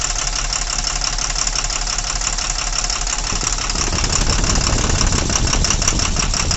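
A loud diesel engine from a BS4 vehicle idles steadily with a dense, rattling knock, and its tone shifts noticeably partway through as an injector is opened during a fault check.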